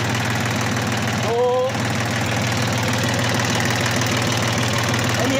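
An Iseki TU250 two-wheel-drive tractor's diesel engine idles steadily at close range with a loud, even knocking rumble throughout, briefly overlaid by a short high squeal near the middle.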